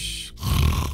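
A sleeping giant character in Minecraft lets out a single loud, guttural snore, a short rasping grunt that swells and fades within a second.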